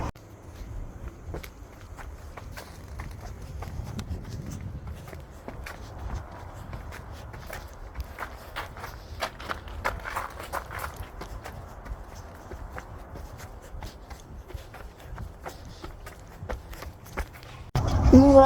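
Horse hoofbeats from a ridden horse moving at a gallop, a steady rapid thudding rhythm close by with wind and movement noise throughout, growing louder at the very end.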